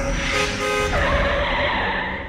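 Car approaching and skidding as a horror-story sound effect, a loud roaring engine with a bending tire squeal partway through, sustained and close before tapering off.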